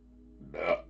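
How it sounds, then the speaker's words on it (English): A single short belch, loud and close, rising out of a quiet room during a late-night sports card pack opening, with no talk over it. "There's our first belch"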